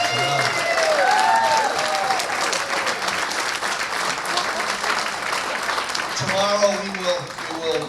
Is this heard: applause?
yes